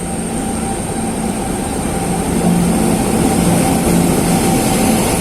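Steady rumble of a train with a constant low hum and faint high whine, loud and continuous throughout, no voices.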